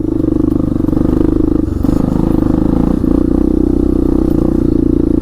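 A 1998 Yamaha Big Bear 350 4x4 ATV engine pulling in low first gear, a loud, steady close-up thumping drone with rhythmic pulsing and occasional clatter over the whole stretch.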